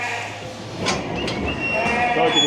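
Old ewes being sorted at a sheep sale bleat nearby in a busy pen, several overlapping calls amid steady background crowd noise and voices.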